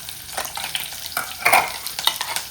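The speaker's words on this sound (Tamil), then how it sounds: "எண்ணெய் காஞ்சதுக்கப்புறம் வெங்காயம், இதில் நம்ம இஞ்சி பூண்டு பேஸ்ட் சேர்த்துக்கலாம்." Onion and ginger garlic paste fry in hot oil for a Sunday fish curry and prawn gravy, with a busy crackling sizzle and repeated stirring scrapes close by.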